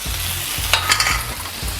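Mayonnaise, chili flakes and oregano stirred together on a hot tawa over a low flame for pizza dosa, a soft continuous sizzle broken by a few scraping strokes of a spatula, with no talking.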